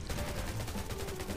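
Rapid gunfire in the zombie survival mobile game Undawn, a steady dense stream of shots that stays loud and continuous throughout, with no talk over it.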